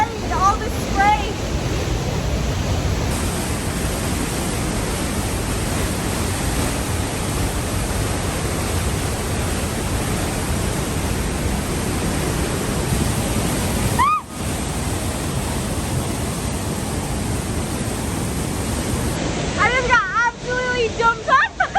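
A waterfall roars as a steady, loud wash of spray inside a small alpine cave, dense and continuous, with faint voices in the background and a brief break near the end.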